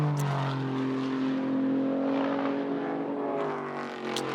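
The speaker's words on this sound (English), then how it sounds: "I heard the sound of a Mazda engine picking up there." A Mazda race car engine rises in pitch as it picks up speed during qualifying at Watkins Glen, a loud, steady, close drone with a smooth upward sweep and no speech.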